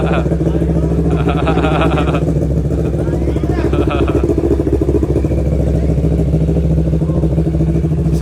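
A motorcycle idles with a steady, low exhaust rumble, loud and close throughout, while someone talks over it.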